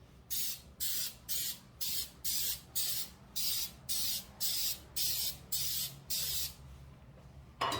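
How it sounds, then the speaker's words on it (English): About a dozen short, even bursts of aerosol cooking spray onto muffin pans hiss in quick succession, close and crisp, with brief pauses between each spritz. "So I'm just going to spray all my hands."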